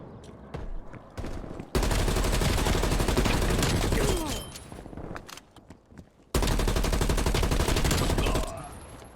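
Sustained automatic gunfire in a first-person shooter game, fired with a custom controller trigger that also aims down sights, in two long loud bursts with scattered single shots between and a brief voice early on.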